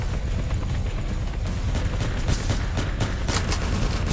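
Rapid MP7 submachine gun fire in a video game, dense bursts of shots running continuously over a busy in-game backdrop, loud and steady throughout.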